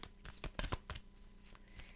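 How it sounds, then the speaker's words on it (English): Oracle cards being shuffled by hand, giving a close, faint papery riffle with quick crisp flicks and rustles repeating through the short stretch. "we will shuffle the cards"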